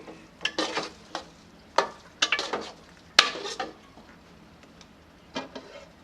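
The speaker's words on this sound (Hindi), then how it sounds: "अब इसे मिक्स कर लेते हैं।" A spoon stirs milk semolina halwa in a pot, making several sharp scraping and clanking strokes at an irregular pace, close and fairly loud, with no talking.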